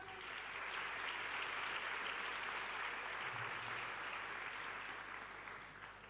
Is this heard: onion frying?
no